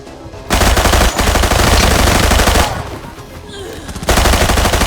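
Rapid automatic gunfire in the shooter game Arena Breakout: loud, dense bursts of rattling shots, broken by a brief pause and quieter stretch before firing resumes.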